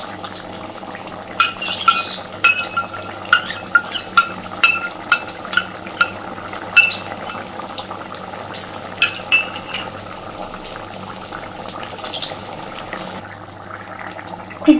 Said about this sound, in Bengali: খুব ভালোভাবে সব কিছুকে মিশিয়ে দিচ্ছি